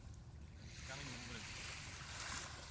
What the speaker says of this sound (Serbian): Talasi.